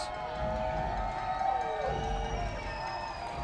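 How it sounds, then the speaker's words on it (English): A light crowd at a baseball game at Constellation Field cheers and whistles in a steady wash of noise, with a few shouts and whoops rising above it. "Light crowd here, but making some noise at Constellation Field."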